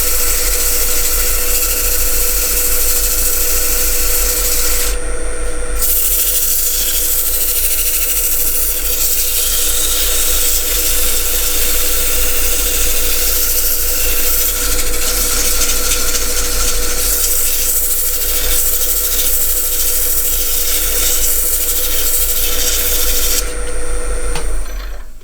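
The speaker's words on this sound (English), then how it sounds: "Just give the outside of the box a quick sand." A wooden box spins on a woodturning lathe while its outside is sanded, giving a steady, continuous whir with a constant hum and a rough rubbing texture, close and unbroken throughout.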